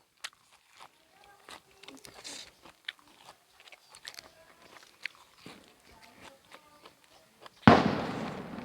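New Year fireworks go off outdoors as scattered sharp pops and crackles, mostly faint to moderate, ending in a loud sustained burst of bangs, with people talking nearby.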